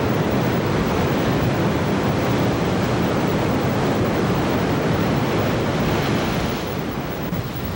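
Heavy, unbroken surf of a stormy sea pounding a rocky coast near a lighthouse, a steady roaring wash mixed with wind rumble throughout.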